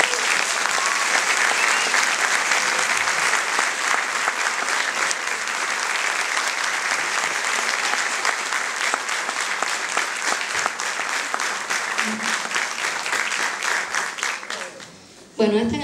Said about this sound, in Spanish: Quiero que reciban con un fuertísimo aplauso a Alejandro Falcón.